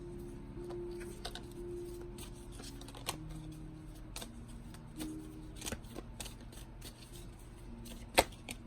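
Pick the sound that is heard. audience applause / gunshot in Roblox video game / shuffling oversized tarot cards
shuffling oversized tarot cards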